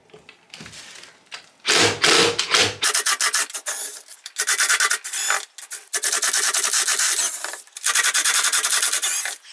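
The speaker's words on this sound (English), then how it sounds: "start taking the screws out of the cases" Repeated harsh rasping and whirring bursts from a power tool removing engine case screws on a Suzuki PV50, loud and close, in stop-start runs with brief pauses.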